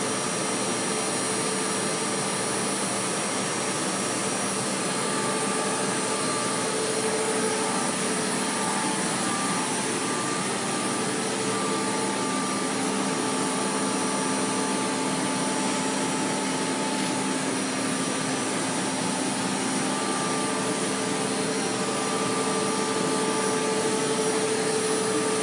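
Creo Lottem CTP platesetter outputting a single printing plate, a loud, unbroken broadband whirring drone with faint steady tonal hums, holding constant for the full stretch with no talk over it.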